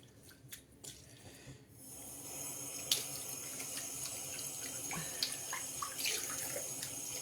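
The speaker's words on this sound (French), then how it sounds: "il suffit de bien rincer" Makeup brushes are rinsed under a running tap; after a few soft knocks and handling sounds, a steady rush of water starts and keeps flowing close by, with small splashes as the brushes move in the stream.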